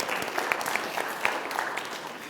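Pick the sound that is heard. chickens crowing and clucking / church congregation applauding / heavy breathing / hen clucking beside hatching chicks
church congregation applauding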